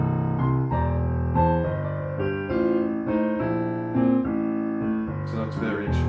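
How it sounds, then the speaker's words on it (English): A piano plays a blues riff in the right hand over a low left-hand bass line, with a repeated figure in a steady rhythm, close and full, with some higher notes near the end. "I'm going to play variation 1 in the right hand."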